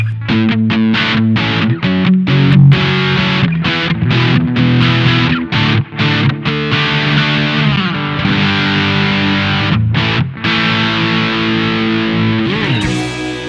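An electric guitar played through a Fulltone OCD 1.7 distortion pedal gives loud, saturated chords and riffs with rhythmic stops, a gritty overdriven amp-like tone that rings out alone.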